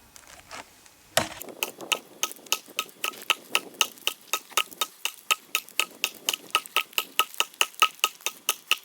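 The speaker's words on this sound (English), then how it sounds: "1 minute of pretty strenuous chopping starting now" A Fiskars X7 synthetic-handled budget hatchet chops wood in steady, strenuous blows, one sharp close impact about every quarter second, loud and evenly spaced with no talk.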